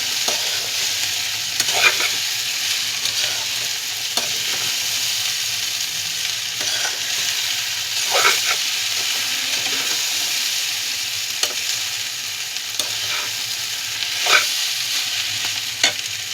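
Chow mein stir-fried in a pan with Maggi masala gives a steady close sizzle, with a spatula scraping and tossing at irregular intervals throughout and no talk.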